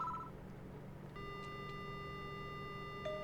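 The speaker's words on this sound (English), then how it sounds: "The only sound I hear is the dial tone." Telephone dial tone in the Death Mark horror game: a steady, faint electronic tone that starts partway through and holds evenly over quiet background hum, with a short beep near the start.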